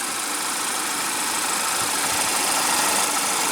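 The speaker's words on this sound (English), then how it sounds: "It's a pretty quiet motor too." A 2014 Chevrolet Malibu's 2.5 L four-cylinder engine idling, a steady, even hum with a hissy mechanical texture, close and constant for a few seconds, no talk.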